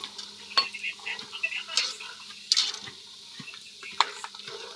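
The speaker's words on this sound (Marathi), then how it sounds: "कांदा टाकलाय मी आणि तो लाल होईपर्यंत परतून घेणार आहे" Onion and peanuts frying in oil while being stirred, with a soft continuous sizzle broken by scattered scraping knocks of a spoon against the pan.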